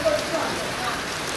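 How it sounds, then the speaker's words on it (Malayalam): Rain falls steadily outside a house as a continuous soft hiss of drops, even and fairly close, with no voices. "ഇപ്പം എന്തേ മഴ വരുന്നുണ്ട്."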